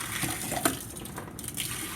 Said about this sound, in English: now we got a steady stream of water coming from our hand pump here.